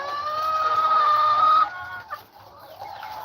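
Chickens on a farm in Aklan cluck and squawk close by, one drawn-out loud call followed by softer, choppier clucks from the flock.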